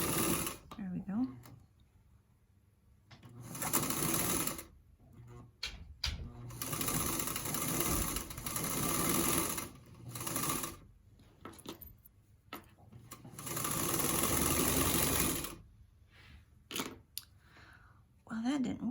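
A small home sewing machine stitching a quilt seam in several bursts of rapid mechanical whirring, separated by pauses with handling clicks and a few brief remarks from a woman.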